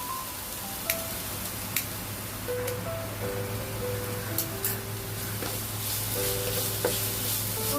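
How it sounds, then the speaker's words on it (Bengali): Tomato frying with a dried chili in a pan, a soft continuous sizzle with a few scraping stirs, fairly quiet, alongside a faint steady background hum and occasional tones. "টমেটোটা দিয়ে দিচ্ছি দিয়ে অল্প করে ভেজে নেব"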